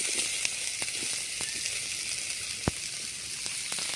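Onion, carrot and beans frying in oil for veg fried rice give a steady, fairly quiet sizzle and hiss, with scattered small pops and crackles throughout.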